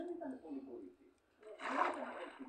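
A splash as a character drops into water in Minecraft, a short burst of splashing that follows a stretch of talk.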